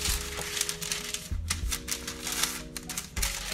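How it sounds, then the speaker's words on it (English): Parchment paper, cut to the size of a cake pan, is folded in half, giving crisp, close crinkling and rustling bursts that come and go over steady background tones. "what you're gonna do is you're gonna fold it in half"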